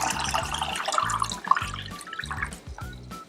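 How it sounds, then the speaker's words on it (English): Water from a tap pours steadily into a pasta pot on the stove, a continuous splashing rush with drips and gurgles, close by and with no voices. "Add water all the way to the top."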